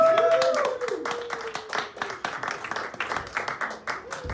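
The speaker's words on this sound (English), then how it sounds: "can we give a big round of applause and say welcome back, Cam?" Audience clapping and cheering to welcome a returning guest named Cam onto a stage at a live show, a fairly loud burst of individual claps with voices calling out over it, easing slightly after the opening second.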